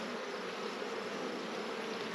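A relatively small cluster of honey bees hums inside an open production hive where they are working on honey. The buzzing is a dense, even drone throughout, close but fairly quiet, with no voices.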